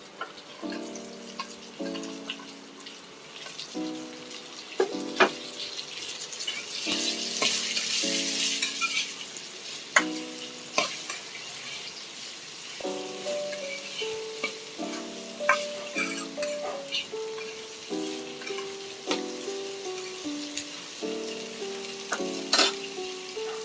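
Half a kilo of ivy gourds frying with salted onions in a pan, a constant close sizzle broken by repeated spatula stirs and scrapes, with melodic music playing underneath and no talking.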